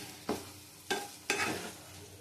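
Fried pointed gourd (potol) is stirred in a pan, with three distinct scraping, sizzling strokes spaced apart against a quiet background.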